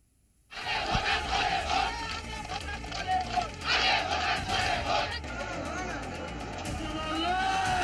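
An angry mob shouting in Malda, West Bengal, a dense roar of many voices yelling and chanting at once, loud and sustained after a sudden start, with individual cries rising above the crowd.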